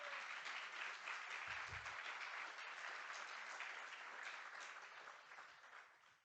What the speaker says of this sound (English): can we give Joe a round of applause for doing such a good job at emceeing?